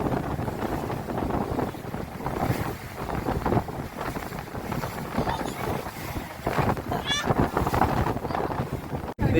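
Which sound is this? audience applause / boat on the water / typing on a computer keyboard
boat on the water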